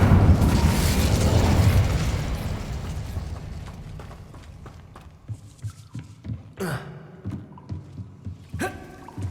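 A fire spell blast in the Hogwarts Legacy video game: a loud rumbling burst that slowly fades, followed by sharper pops and two distinct bangs near the end.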